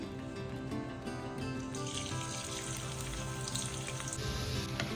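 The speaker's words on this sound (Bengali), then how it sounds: "তো এখানে পেঁয়াজ বেরিস্তা ভাজা হচ্ছে" Thinly sliced onions for Kolkata biryani beresta fry in hot oil, producing a continuous, dense sizzle with a bright, even hiss that stays steady and close for the whole stretch.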